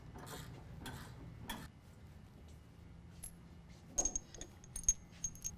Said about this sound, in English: So we need to actually take off the nut that's holding on the passenger side differential.